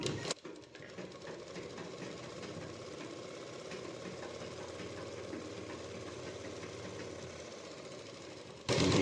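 A sewing machine runs continuously while stitching a Rajputi-style suit, a steady mid-pitched mechanical hum lasting nearly the whole stretch, fairly quiet and alone, stopping abruptly at the end.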